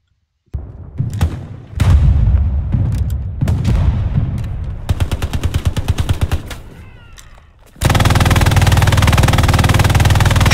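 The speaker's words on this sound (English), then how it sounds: "He anti-tank mined me." Anti-tank mine detonating in a multiplayer war video game, arriving amid bursts of rapid game gunfire and impacts, ending in a loud sustained roar of blast and debris that holds steady to the end.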